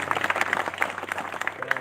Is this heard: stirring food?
no